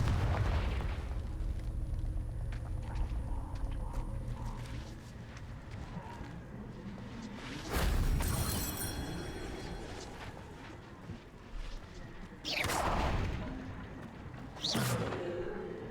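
In Hogwarts Legacy, a Confringo blasting spell erupts in several booming bursts over steady background game ambience, with one heavy blast midway and two sharper ones near the end.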